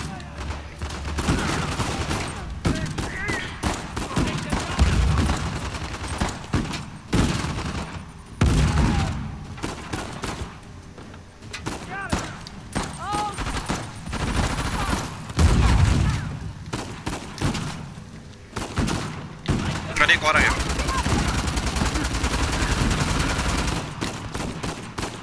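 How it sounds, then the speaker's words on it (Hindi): Rapid automatic gunfire in Uncharted: The Lost Legacy, with bursts of shots cracking almost continuously through a busy game mix of explosions and ambience, with short lulls between volleys and talk now and then. "इसके पास जो बंदूक है वो चाहिए रेट ऑफ फायर देखा कितना है उसका"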